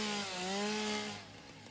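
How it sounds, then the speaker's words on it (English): Chainsaw cutting trees in the video game Satisfactory: a loud, steady buzzing engine whine with a slowly rising and falling pitch, alone and close, tapering off near the end. "Chainsaw. Can we take you down?"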